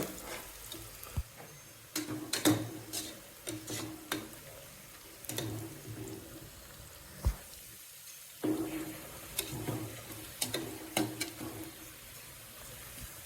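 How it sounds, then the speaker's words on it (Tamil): Onions sautéing in a pan for Hyderabadi chicken biryani, a low sizzle broken by repeated sharp scrapes and clacks of a spoon stirring, with a short quiet pause partway. "வெங்காயம் இன்னும் மதங்கிட்டே இருக்குது கொஞ்சம் பொறுமை வேணும்"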